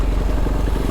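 KTM 390 motorcycle engine while riding on a drizzly road in Bali, a steady low rumbling engine note close by with constant wind and road noise throughout.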